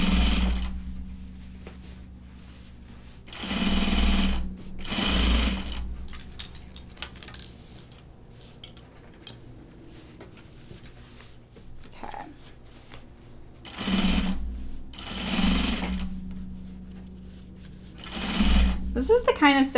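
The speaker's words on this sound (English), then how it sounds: "So I'm just edge stitching this" Sewing machine edge stitching woven stretch fabric, running in several loud bursts of steady whirring separated by quieter pauses with small handling noises.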